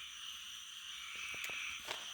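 A small frog croaks at night near a porch in the American South, a few short calls standing out over a steady wash of insect chirring.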